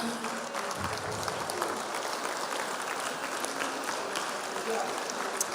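A crowd at a Republican governor candidates' forum in St Clair County applauds steadily throughout, a moderate wash of clapping with some voices mixed in.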